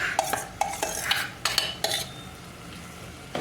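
Mashed roasted eggplant for Gujarati bharta being stirred in a pan, with a faint sizzle under sharp, irregular spoon clinks and scrapes against the metal, close by.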